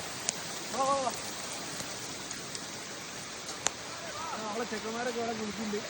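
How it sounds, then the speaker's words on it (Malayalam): Heavy rain pours down in a dense, steady hiss with a few louder drips, while voices talk briefly underneath now and then. "നല്ല മഴ ഉണ്ടല്ലേ? അടിപൊളി മഴ."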